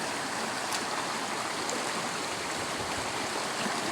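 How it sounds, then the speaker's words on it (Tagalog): Water flowing in a stream at a bathing spot, a continuous bright rushing and gurgling wash, moderately loud and steady with no talk. "Grabe naman sapa dito sa inyo, ang gaganda."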